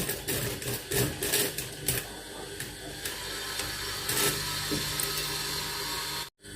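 A sewing machine stitches a pocket onto a shirt, with short mechanical whirring runs and clicks that start and stop, fairly close and with no talking.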